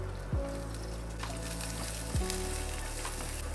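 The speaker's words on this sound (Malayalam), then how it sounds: "ഒലിവ് ഓയിലിലോട്ട് ഒരു 2 table spoon mince garlic add ചെയ്യുക." Minced garlic sizzling in olive oil, a soft steady crackling fry heard close and fairly quiet, with two brief low gliding tones sweeping past and no talk.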